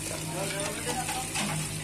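Boiled noodles are rinsed with water, giving a steady, close rush of splashing water that runs continuously without pause.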